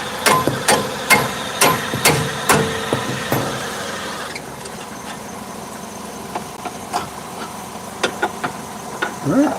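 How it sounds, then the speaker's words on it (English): A hammer strikes sharply about eight times in quick, regular succession while car struts are replaced, then sparser, fainter knocks follow over a low hum, close by. "And then I need a hammer."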